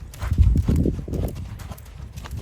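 Hooves of a ridden gaited Spotted Saddle Horse clop in a quick, uneven rhythm, close and loud at first, then softer as the steps carry on during a training session.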